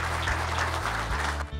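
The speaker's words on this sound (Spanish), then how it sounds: "recibimos con un caluroso y muy emotivo aplauso" Warm applause rises from the audience at an anniversary ceremony of an ophthalmology institute, a steady burst of clapping filling the room over a low background hum.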